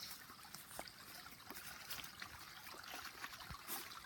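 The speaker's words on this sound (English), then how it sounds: "This little creek near our campsite right now, I've got my beer bottles soaking in the water." A small creek near a campsite trickles and burbles quietly nearby, a soft continuous flow with little splashes and drips, no talking.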